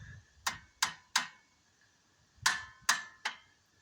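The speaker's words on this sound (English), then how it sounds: "I think I need a hammer." Six sharp metallic hammer blows during bicycle maintenance, close and fairly crisp, struck in two quick groups of three with a short pause between, each ringing briefly.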